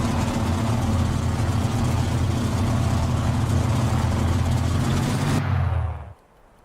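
An F4U Corsair's radial engine idles on the ground in a flight-simulator game, a steady, loud, rough low rumble that holds for about five seconds and then cuts off abruptly into near silence.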